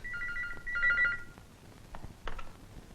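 Telephone bell ringing in two short trilling bursts at moderate volume, followed by a quieter pause and a couple of faint clicks and knocks as a phone is handled.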